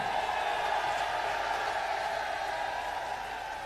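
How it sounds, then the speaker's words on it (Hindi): Large crowd at a Mayawati rally in Meerut applauding in steady, dense clapping that fills the whole moment at an even level, fading slightly toward the end. "जोरदार ताली बजाकर स्वागत करें"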